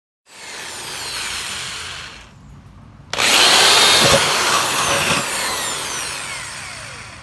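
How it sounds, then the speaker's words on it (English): A power drill whirs steadily, pauses briefly, then bores loudly again with a higher, grinding tone as it cuts through material, close and continuous. "drill the holes for airflow."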